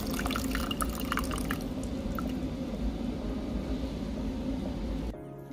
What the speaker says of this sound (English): now I'm going to pour the matcha in